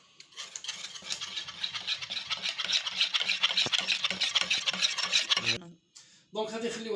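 A spoon stirs gelatin into a liquid until it dissolves, making a busy run of quick scraping, clinking strokes against the pot for several seconds before stopping, then a brief soft voice.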